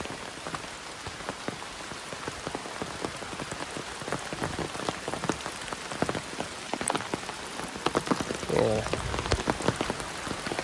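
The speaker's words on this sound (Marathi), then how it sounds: "पावसाचा जोर तुम्हाला दिसत असेल." Heavy rain pours down steadily outdoors near newly built field bunds, a dense continuous patter with scattered louder drops, close and enveloping, with a brief faint voice in the background.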